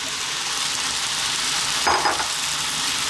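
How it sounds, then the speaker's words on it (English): Fresh spinach sizzles steadily in a pan for a saag masala curry, with a brief soft stirring scrape partway through, heard close and alone. "Quite difficult to mix now, so just a little mix."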